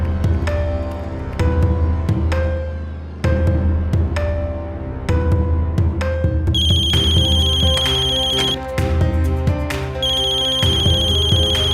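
A phone ringtone plays for an incoming call, a loud, repeating electronic melody of bright tonal notes that rings continuously with no talk over it, set in a tense crime drama scene.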